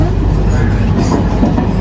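A metro train runs on an underground line, a steady close low rumble filling the short stretch with no clear breaks.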